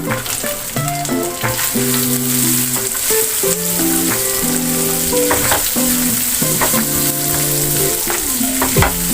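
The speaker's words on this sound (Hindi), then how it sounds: "जो फिलिंग हमने रेडी करनी है ना उससे ऑयल हमारा गर्म हो चुका है। तो अब हमने इसमें प्याज ऐड कर देने" Onions sizzle and crackle in hot oil in a pan for the whole stretch, a loud, steady, close frying hiss with scattered pops and occasional stirring, under background music and no talking.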